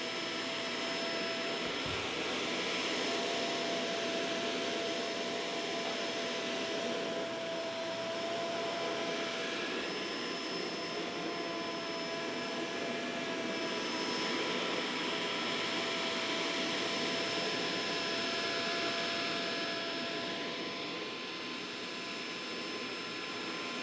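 A minimalist vacuum cleaner with a light that illuminates the carpet runs over carpet, a steady, close, whining hum with a faint tonal whistle that rises and falls gently as it moves back and forth, with no talking.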